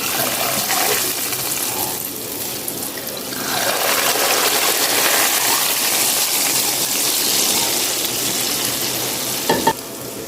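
Golden-browned garlic and cumin tempering hits a pot of whole masoor dal, giving a steady, loud sizzling hiss that swells midway and holds, ending with a couple of sharp clinks near the close.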